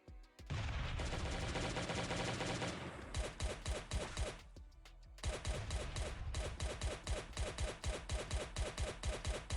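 Rapid gunfire from Glock pistols in a survival video game, a dense continuous burst for the first few seconds, then after a brief pause a steady run of evenly spaced loud shots.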